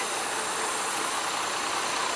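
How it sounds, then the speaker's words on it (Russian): A bus idles at a stop beside a street market in Kaliningrad, a steady, dense engine rumble mixed with broad outdoor noise, continuous and fairly close, with no speech. "Тут автобус стоит."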